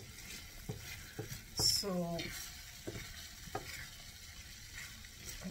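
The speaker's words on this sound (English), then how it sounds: "I want it to kind of saute the meat now, because now it's cooked and tender" Hungarian pork paprikas sautés uncovered in a pan, a faint low sizzle under a few soft scrapes and a brief rattling clatter of cookware, with someone speaking briefly over it.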